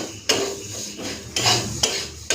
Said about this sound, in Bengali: চলুন আগে ডালটা ভেজে বসিয়ে দিই